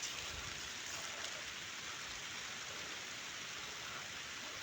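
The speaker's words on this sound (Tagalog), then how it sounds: "umuulan na" Rain falls on a farm field as a soft, even hiss of drops that continues unbroken. It is faint and distant-sounding, with no voices over it.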